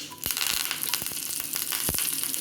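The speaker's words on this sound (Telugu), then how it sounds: "2 స్పూన్ల నూనె వేసుకున్నాక ఇలా కొన్ని తాలింపు గింజలు, కొన్ని కరివేపాకులు వేసుకొని" Seeds and curry leaves sizzling in two spoons of hot oil for a tomato rasam tempering, a loud steady hiss with sharp crackles and pops scattered throughout, close up.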